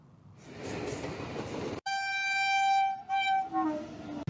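At an old railway halt in Kheri town, a train rumbles past, then a long loud horn blast sounds, followed by a shorter second honk.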